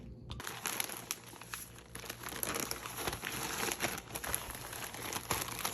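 Crochet items get packed tightly into a parcel with steady, close crinkling and rustling of packaging, quiet and continuous with short louder crunches.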